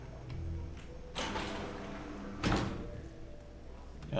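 Door shutting in the stealth game Hitman 3: a soft thump and latch click, then a sharper knock a moment later, heard faintly over low ambient game background, with no talking.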